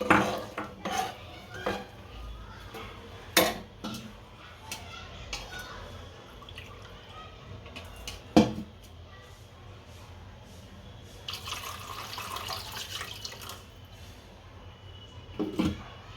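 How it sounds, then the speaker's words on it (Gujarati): Buttermilk goes into a pot of spiced oil for dhokli shaak, with clanking pots and spoons, metallic taps and a stretch of pouring, splashing liquid near the end. "હું 2 વાટકા નાખું છું છાશ."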